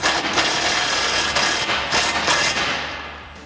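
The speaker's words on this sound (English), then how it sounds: "Let's see if I can use the gun in here" Power gun running steadily in a tight space as it tightens nuts on a running board bracket of a 2021-2023 Ford Bronco, a loud continuous buzzing whir that tapers off at the end.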